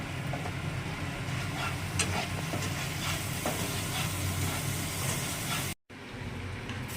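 Giant freshwater prawn malai curry sizzles in the pan after water is added, a steady close hiss and crackle with a few small pops and a brief drop-out near the end, no voices.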